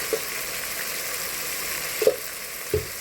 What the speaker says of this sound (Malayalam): എല്ലാം കൂടി ചേർത്ത് വഴറ്റുക.